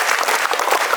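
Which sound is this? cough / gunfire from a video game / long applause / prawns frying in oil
long applause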